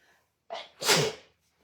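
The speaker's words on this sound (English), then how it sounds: "every time I come over to this house lately, I feel like I've been sneezing in here" A single close, loud sneeze indoors in a home craft room, a short sharp intake followed by a burst, alone with no talk.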